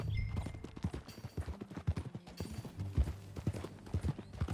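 A horse is ridden in Red Dead Redemption 2, its hooves clip-clopping in a quick, uneven rhythm. The hoofbeats are close and fairly loud, with a few thuds and creaks of movement between them.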